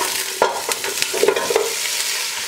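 Beef trotters drop into hot oil in a pot set over a stove flame, giving a brief crackling sizzle with a few clattering knocks against the metal. Steady frying hiss continues underneath, with no voices.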